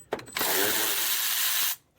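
Close, loud ratchet spinning off a fender nut on a Mercedes S55 AMG W220 S-Class, a couple of short clicks and then one continuous rapid whirring ratchet run lasting over a second before it stops.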